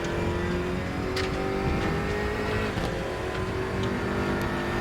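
A race car engine in a racing video game hums steadily at high revs, loud and continuous, with slight pitch shifts as it runs through a long stretch.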